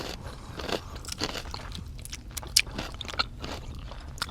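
Crunchy fried chicken bitten and chewed up close, with scattered crisp crackles and scraping crunches over a low background hum, no talk.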